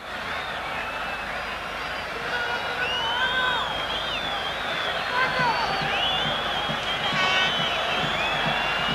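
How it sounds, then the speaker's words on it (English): A football stadium crowd at the Israel versus Colombia World Cup qualifier roars and cheers continuously with whistles and whoops, a dense wall of sound under a commentator's voice. "The whole crowd here rises."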